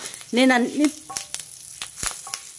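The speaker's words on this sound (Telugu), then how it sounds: "ఈ ఎండుమిర్చి కూడా కొంచెం వేగాలి" Dried red chilies fry in a pan for a flaxseed spice powder, giving a soft sizzle with scattered pops and spatula clicks after a brief voice.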